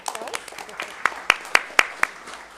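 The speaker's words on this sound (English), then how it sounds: "Give him a round of applause." Applause at a school district board meeting for a union vice president in the audience: scattered clapping with several sharp, prominent nearby claps in a loose rhythm, and some voices underneath.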